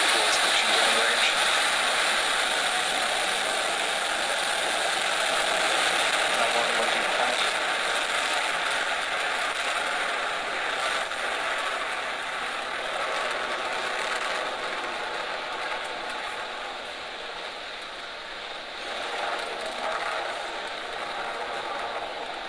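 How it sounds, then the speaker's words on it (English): A Falcon 9 rocket carrying a Dragon spacecraft ignites and lifts off, heard as a broad, continuous roaring rumble that holds steady and loud throughout, with slight swells and fades. "Ignition, liftoff."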